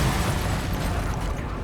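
Rumbling explosions echo through an underground chamber in the game Tsukihime, a dense, continuous low boom with crackling debris filling the space, loud and sustained without pause.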